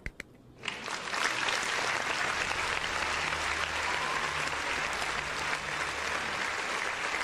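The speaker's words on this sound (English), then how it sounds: "Let's give them a round of applause." Steady, sustained applause from a crowd within Evil Dead: The Game, starting after a couple of sharp claps and then holding loud and even for several seconds with no talk over it.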